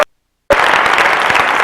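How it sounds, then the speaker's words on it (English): Round of applause from a college convocation audience breaks out abruptly after a short silence and continues as dense, steady clapping at close range. "Give him a round of applause."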